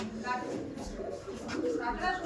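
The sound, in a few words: Andhra pigeons cooing in a loft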